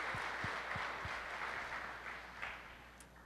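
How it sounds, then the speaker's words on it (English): A congregation at a church service claps hands together in praise, a broad wash of applause that starts full and slowly fades over a few seconds, with a few distinct low thumps near the start. "Why don't we clap our hands again to our God for His goodness？"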